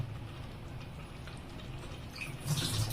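Water pours into a pot of chicken biryani gravy in a soft, steady trickle that swells slightly toward the end, quiet and close with no voices.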